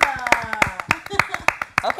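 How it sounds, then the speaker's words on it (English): Scattered hand claps from a small group, several sharp claps in quick succession with voices chattering over them. "can we clap for the little interns that we have?"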